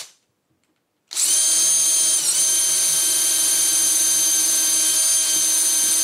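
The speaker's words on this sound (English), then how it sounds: "we're going to drill all the way through" A power drill bores through wood for a large screw in a bar table build, starting abruptly after a second of silence and then whining at a steady, loud, constant pitch close to the microphone.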